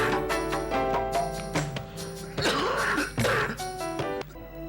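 A person clears their throat and coughs several times in a quiet indoor setting, in rough bursts with short pauses between, close and fairly loud, with no talk.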